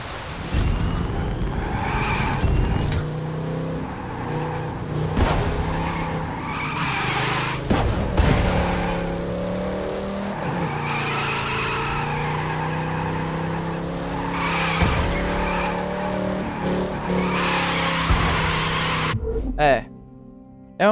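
A heavy car drifts in the racing game The Crew 2, its engine droning loudly and tires squealing in long continuous skids, with someone talking over it throughout.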